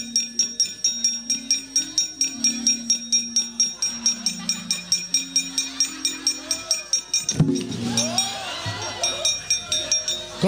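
Metallic gong and bell tones from a Javanese wayang gamelan ensemble strike in a steady, evenly paced rhythm, ringing loudly throughout, with a brief burst of crowd noise partway through.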